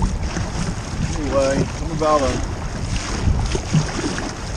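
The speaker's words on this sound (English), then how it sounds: "Every day is windy." Gusty coastal wind buffets the microphone in a steady roar while someone speaks briefly over it, while crabbing in late November in St Lucie, Florida.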